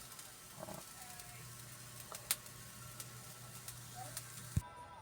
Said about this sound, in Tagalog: Nakasalang na yung ating sinangag